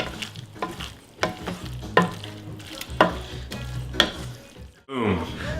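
Egg and zucchini noodles cook in a hot skillet with the heat off, soft frying crackle punctuated by roughly once-a-second scraping stirs and taps, then a brief louder gush of sizzle at the end.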